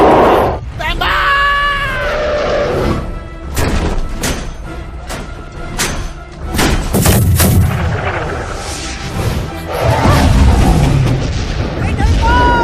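Gunfire and booming artillery shots ring out in an animated adventure film, loud and close, amid shouting voices, screams and music, with several sharp blasts across the scene.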